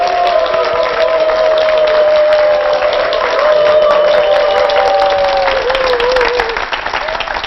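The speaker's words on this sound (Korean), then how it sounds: "우리 이장호 박사님들 큰 박수로 모시기 바랍니다" A lecture audience gives loud, sustained applause to welcome the speaker onto the stage at a televised talk, a continuous wash of clapping with a steady, gliding musical tone running beneath it.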